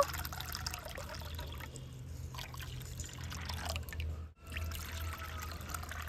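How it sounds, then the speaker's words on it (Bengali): Water pours into mango puree in a bowl for homemade mango juice, a steady trickling, splashing stream that runs for several seconds with a brief pause near the end. "পিউরিটা যতটা পরিমাণে হয়েছে, ঠিক তার ডবল পরিমাণে জল দিয়ে দেব"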